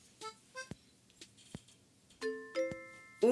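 Bright bell-like chimes ring in the snowy hourly background music of Animal Crossing: Wild World, striking in scattered single notes and then in sustained, layered tones near the end.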